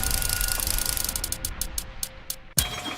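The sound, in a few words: roulette wheel spinning sound effect on a radio show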